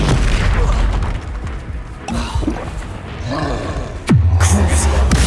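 An Incendio fire spell cast in the Hogwarts Legacy video game bursts with a loud, booming whoosh about four seconds in. It comes after a busy stretch of other game combat noise and leaves a low rumbling tail.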